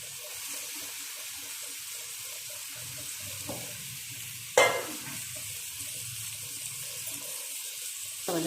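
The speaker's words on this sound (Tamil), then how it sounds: "மிக்ஸ் பண்ணி விட்டுருங்க ஒன்று போல." Chicken stirred into a thick gravy masala in a pan, a soft continuous sizzle under a few wet scrapes and one sharp clank of the spoon against the vessel, close by.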